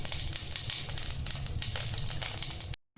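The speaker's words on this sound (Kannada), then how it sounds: "1 ಸ್ಪೂನ್ ಆಗಷ್ಟು ಸಾಸಿವೆ ಹಾಕ್ಕೊತಾ ಇದ್ದೀನಿ. 1 ಸ್ಪೂನ್ ಆಗಷ್ಟು ನಾನು ಜೀರಿಗೆ ಹಾಕ್ತಾಯಿದ್ದೀನಿ." Mustard and cumin seeds sizzle and crackle in hot oil, a dense, steady crackling hiss that stays close and loud for the whole stretch, with a few sharper pops, no talk, and a sudden cut to silence near the end.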